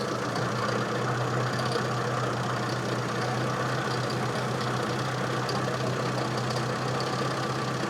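A Mini car engine idles steadily at close range while its carburetor is adjusted, giving a continuous even drone and rumble that stays at one level throughout, with no talking.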